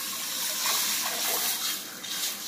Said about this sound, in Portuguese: Agora eu vou colocar um pouco de água.